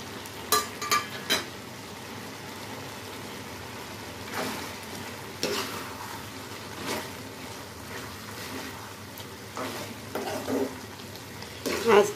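Prawns and brinjal frying in a pan make a steady low sizzle, broken by occasional stirring scrapes and clatter throughout.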